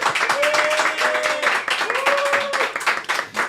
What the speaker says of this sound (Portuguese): Recebam com forte aplauso